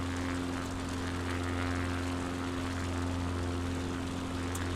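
Tailwheel airplane engine in Microsoft Flight Simulator 2024, a steady, loud propeller drone with constant pitch during the climb after takeoff, with no other sounds.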